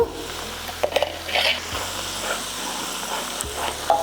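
Tomato-based noodle sauce sizzles and fries steadily in a pan, a continuous close crackle with occasional soft stirring scrapes.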